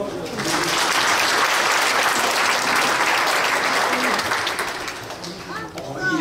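Congregation applauding at a church's 70th anniversary thanksgiving service: dense, sustained clapping from a large crowd that holds steady for several seconds, then tapers near the end, with a voice faintly audible.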